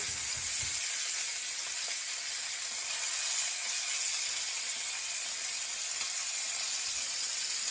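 Hake fillet skin fries in butter in a pan, a steady bright sizzle and hiss that holds evenly throughout with no talking.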